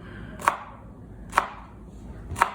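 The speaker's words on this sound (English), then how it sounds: "she says to cut these into 1/4 inch slices" A knife slicing okra into quarter-inch pieces on a cutting board, three crisp, evenly spaced chops close up with quiet pauses between them.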